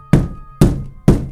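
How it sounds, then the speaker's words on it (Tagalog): Three heavy, evenly spaced thuds on a door land close and loud, each sharp hit fading quickly into silence, with no voices. "marinig ko ang sunod-sunod na katok sa pinto at kalabog"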